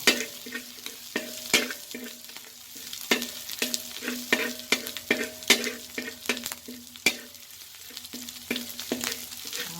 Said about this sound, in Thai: เจียวกระเทียมให้หอมหน่อยมัน